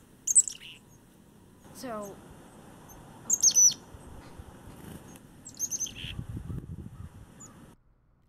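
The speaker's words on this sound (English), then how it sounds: "next time you see chickadees or you hear the DDD call, listen for those other calls in the chickadees repertoire" Chickadees give several short high chirps and calls, spread out and fairly close, with soft rustling and low background noise between them. A brief word is spoken at the start.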